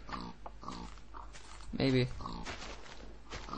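A pig grunting and oinking in the Minecraft video game, a short loud squeal standing out among a few softer snorts, with people talking around it.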